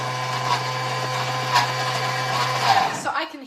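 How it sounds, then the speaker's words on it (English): A Thermomix at turbo power whirs steadily and loudly as it blends feijoa ice cream, a constant motor drone with churning texture that cuts off near the end. "I can hear that has blended, so we just blended that at turbo power"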